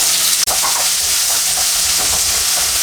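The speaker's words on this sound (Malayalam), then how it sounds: "ഒരു സവാള നീളത്തിൽ അരിഞ്ഞതാണ്, അത് ചേർക്കാം." Long-sliced onion hits hot oil in a pan with dried chillies and curry leaves for poori masala, a loud, dense hissing sizzle that carries on steadily at close range after a brief drop.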